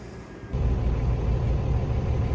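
A Nordhavn 62 trawler yacht's engine runs steadily in the engine room, a loud, continuous low rumble with a constant drone and no talking.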